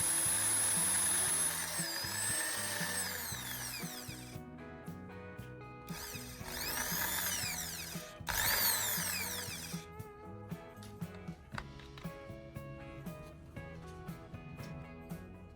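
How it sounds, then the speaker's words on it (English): A power drill spins a carbon rod against sandpaper, giving a continuous whirring motor whine with a gritty scraping edge that rises and dips, then slows into intermittent ticking and clicking bursts, close-up with no talk. "I'm inserting it into my drill and using sandpaper to give it a fine, pointed tip"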